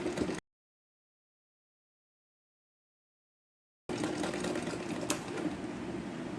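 A sewing machine runs steadily while stitching a blouse sleeve, a continuous close mechanical whir that follows a short burst and a long dead-silent gap.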